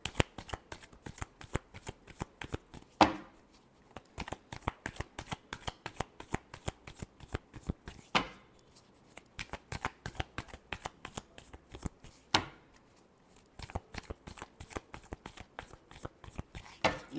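Tarot cards are shuffled close up in a long run of rapid crisp riffling clicks, with a few heavier taps as the deck is squared, and no talking.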